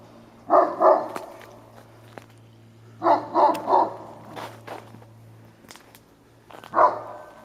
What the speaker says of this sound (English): Now both are coming over and looking at me, but only one's barking.